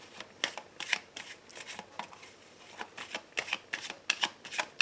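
A deck of tarot cards is shuffled and cut by hand, giving a quiet, close series of crisp riffling bursts and soft slaps in an irregular rhythm, with no talking.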